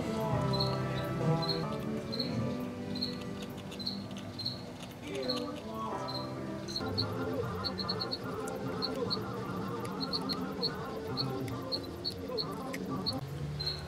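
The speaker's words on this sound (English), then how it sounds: "You guys hear that cricket?" A cricket chirps in short, evenly spaced pulses in the background of an indoor workshop while a lure is being made, its repeated bursts steady and faint beneath a bed of music.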